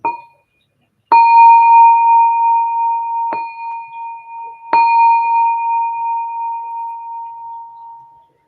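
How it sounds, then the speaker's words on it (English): A meditation bell is struck three times in a quiet room, each clear, bright strike ringing out in a long sustained tone that slowly fades, with the last ring hanging on to the end. "And I'm going to ring the bell."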